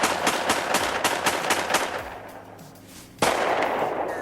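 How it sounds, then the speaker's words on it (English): A firearm fires outdoors in a forest during shooting practice, with a quick string of about eight sharp reports, a short lull, then one louder, nearer blast that rings out. "Dylan Klebold and Eric Harris go to the forest with friends for firing practice"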